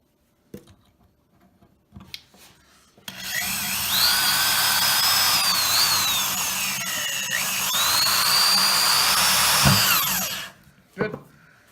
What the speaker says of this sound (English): now what we got to do is drill the holes into the handle piece that has just been cut